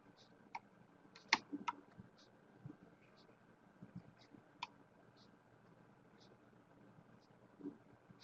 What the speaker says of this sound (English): See, a couple of people are typing right now